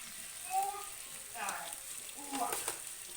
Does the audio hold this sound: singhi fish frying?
yes